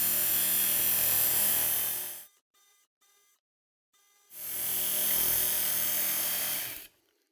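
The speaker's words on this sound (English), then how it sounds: "repeat that stroke for 5 to 6 times until you raise a burr across the entire edge of the knife" Fillet knife stroked along a sharpening abrasive with an edge guide, two long steady grinding whirs separated by a brief pause with faint clicks, loud and close with no talk.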